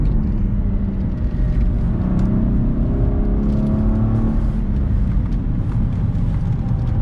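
A Cadillac ATS-V with a six-speed manual accelerates hard on throttle, its engine note climbing loud and close through the gears over several seconds, with no talk.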